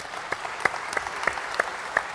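Sparse, scattered hand claps from a small audience at a Microsoft Tech·Ed conference session, a handful of separate claps spread over a couple of seconds in a large hall.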